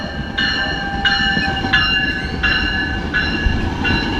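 A passenger train rolls steadily on its rails, with a loud continuous rumble and a sustained multi-tone whine that pulses at a regular rhythm, heard from inside the carriage.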